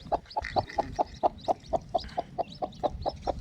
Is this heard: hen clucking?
yes